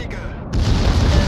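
A Tier 8 battleship is destroyed in World of Warships naval combat, a deep rumbling boom swelling after a brief lull and rolling on heavily and loud, with no talk over it.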